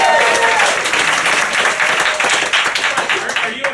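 A theater audience at a live improvised musical show claps loudly and continuously, a dense close patter of many hands throughout the short stretch.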